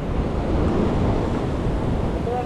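Ocean surf off Siargao Island heard from a small boat at sea, a dense, continuous roar of waves and wind buffeting close to the microphone with no talking.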